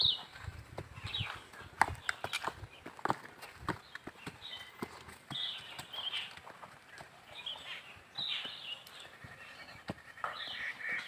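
A horse walks on open ground in a village in Jaunpur, its hooves clip-clopping in an uneven sequence of soft thuds, with faint bird calls in the background.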